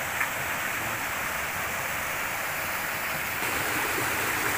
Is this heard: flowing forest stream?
yes